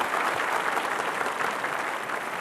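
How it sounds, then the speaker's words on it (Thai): Studio audience applauding a contestant at a Thai children's talent contest on a TV show, a steady dense wash of many hands clapping close by, without talk. "ปรบมือให้คุณตันอีกทีครับ"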